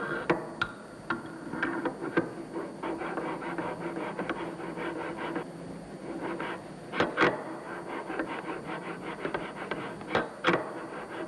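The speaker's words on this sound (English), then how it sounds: "Finally, the valve housing's mating surfaces are ground as well." Valve housing mating surfaces from a fuel valve overhaul being ground by hand, giving a continuous scraping rub broken by irregular sharp taps and knocks at close range.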